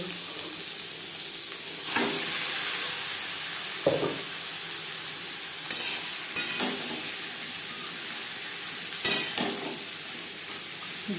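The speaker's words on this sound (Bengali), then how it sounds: "তেল ছিটকা আড়ানোর সম্ভাবনা থাকতে পারে জিরে কাঁচা লঙ্কা ভেজে নেওয়ার পর দিয়ে দেবো কাঁকড়া" Cucumber fries with cumin and green chili in oil, a continuous close sizzle with occasional sharp spatula scrapes and stirring knocks, no voices over it.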